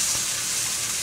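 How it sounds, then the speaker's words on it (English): A large steak searing on its side in a hot, smoking pan, a brief steady close-up sizzle with bright hiss and no talk. "So I'm now turning the steak on its side."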